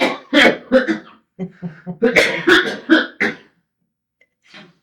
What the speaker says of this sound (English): So my cameraman is coughing back here.